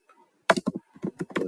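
Keys clatter on a computer keyboard while a query is typed, a quiet burst of separate taps that arrive in quick uneven clusters with short pauses between them.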